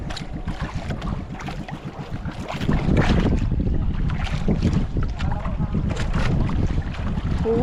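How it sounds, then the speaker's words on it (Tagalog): Big sea waves slap and wash around a small boat, with rough, gusty rushing water and wind buffeting the microphone, swelling louder partway through. "Lalaki ng alon."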